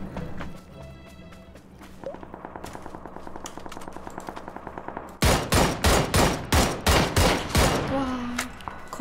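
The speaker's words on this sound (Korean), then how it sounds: "총소리가 났으니까" Video game gunfire: a rapid, mechanical stream of shots, then a run of loud, evenly spaced heavy bursts, with no talking.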